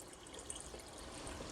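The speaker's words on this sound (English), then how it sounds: "I'm going to pour my kombucha in there" Kombucha starter liquid, 16 ounces, poured into a jar of tea, giving a steady close liquid wash with faint splashy trickling throughout and no talking.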